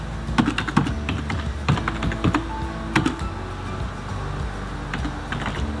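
Keystrokes clatter on a computer keyboard while a channel name is entered, a quick irregular patter of clicks in short bursts with brief pauses, close and fairly loud against a quiet room.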